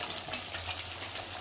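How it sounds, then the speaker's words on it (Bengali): Big pieces of katla fish belly fry in hot oil in a pan, giving a soft, steady sizzle with a faint crackle for a brief moment and no talk. "মাছগুলো ভেজে নেওয়া হচ্ছে প্রথমে"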